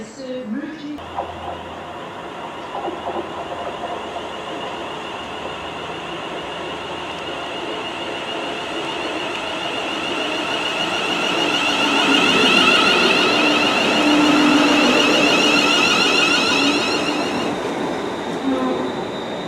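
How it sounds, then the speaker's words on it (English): A train rolls into Rugeley Trent Valley station, its rumble swelling as it nears with wheel clatter and a high squeal of braking, then easing off as it slows. "I've just come off this train, which is the train from Liverpool Lime Street, which terminates here at Rugeley Trent Valley."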